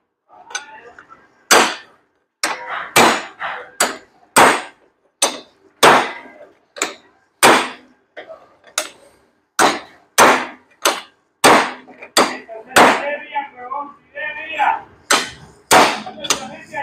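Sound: hammer tapping steel cardan tube to close the gap

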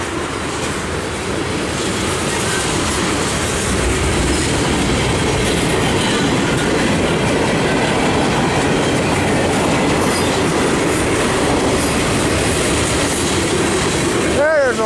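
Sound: freight train passing by

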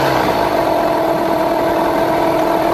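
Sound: Yamaha 9.9/15hp outboard engine idling

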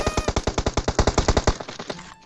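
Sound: gunfire from M762 rifle in PUBG video game

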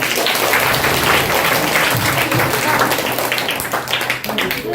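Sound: loud applause from schoolchildren

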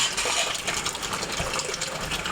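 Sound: rainwater being collected into a cut bottle

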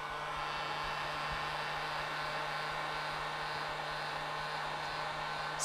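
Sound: heat gun blowing on leather of Nike Air Max sneaker

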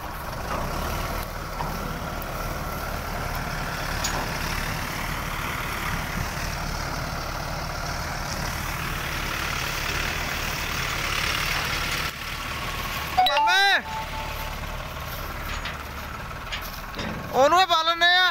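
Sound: Massey 9500 tractor engine idling

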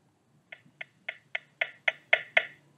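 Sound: speakerphone volume tone getting louder

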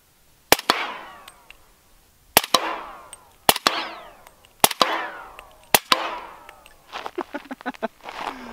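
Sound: suppressed .50 cal heavy sniper rifle shots at sewer lid

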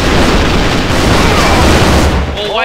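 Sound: grenade explosion in video game AVA

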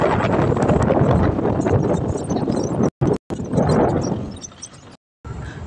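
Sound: strong wind blowing at a reservoir

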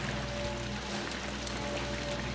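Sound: rain falling, from the video game Outlast

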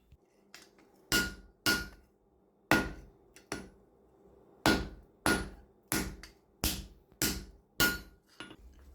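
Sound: hammer forging a steel garden hoe

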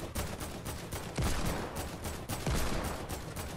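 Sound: gunfire shooting in Fortnite video game

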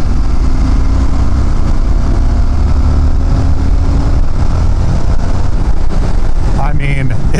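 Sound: Indian FTR 1200 S motorcycle accelerating in sixth gear from 50 mph

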